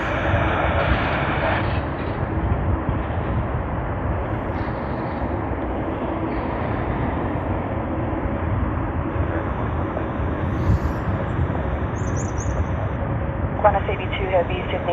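American Airlines Boeing 787-9 Dreamliner, flight QF8 from Dallas Fort Worth, at Sydney Airport: a steady, loud broadband jet rumble holding throughout, with talk over it.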